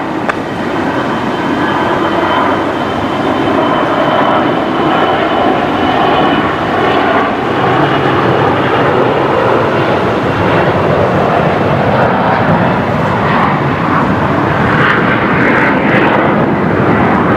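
A Jetstar airliner lands at Brisbane Airport with a steady, loud, broad jet roar that rumbles on without pause and swells slightly toward the end.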